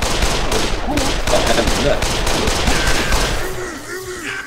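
Rapid bursts of gunfire in the Dead Island video game crack repeatedly in quick succession, dense and loud, while players talk over the shooting.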